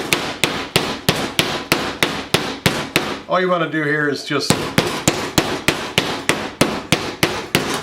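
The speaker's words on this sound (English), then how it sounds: "I do have a nice little hammer that's got the needles in it." A needled meat tenderizer hammer pounds steak for Swiss steak in quick, steady repeated whacks, pausing briefly while someone speaks, then resuming the same even rhythm.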